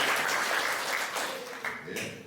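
Audience at a clean stand-up comedy show in a theater applauds steadily, a dense wash of clapping that holds at moderate level and tapers slightly near the end.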